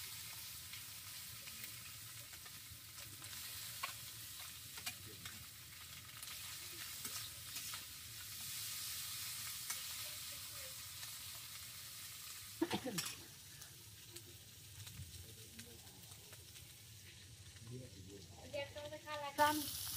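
Tangra catfish dropped into hot oil crackle and sizzle steadily throughout, with a sharper burst of spattering near the middle and occasional clatter, while a voice talks intermittently in the background.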